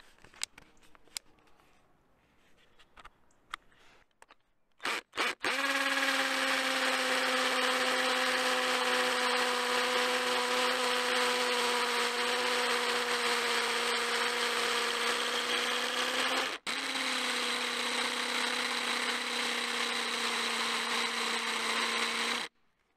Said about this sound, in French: Je vais essayer la fonction perforation, et pour ça, je vais aller sur du béton.